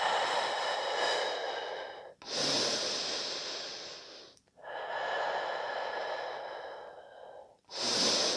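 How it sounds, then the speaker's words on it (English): Slow, deep yoga breaths in a steady rhythm, long airy inhales and exhales of several seconds each with short pauses between them, close and fairly loud with no talking. "Find a rhythm in your breath."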